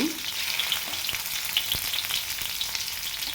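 Okra pieces frying in hot oil give a close, continuous sizzle sprinkled with sharp crackles and small pops, fairly quiet and with no talking.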